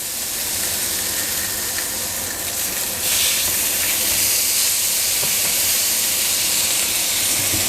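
Lamb rump steaks held upright on their edges with tongs, fat rendering against a hot pan, producing a loud, steady close-up sizzle and hiss that swells slightly partway through; no voices.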